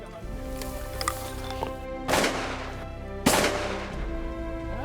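Two loud shotgun blasts about a second apart during a waterfowl hunt in Saskatchewan, each with a sharp crack and lingering boom over steady background noise.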